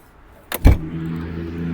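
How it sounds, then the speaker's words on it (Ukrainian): A car boot clicks open with a couple of quick latch clunks, followed by a low steady rumble from the car, at a Lutsk used-car lot. "Давайте я вам покажу багажничку"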